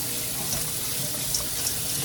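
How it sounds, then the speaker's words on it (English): Steady hiss of running tap water over a peeled boiled egg, continuous and close. "And just run it under the water."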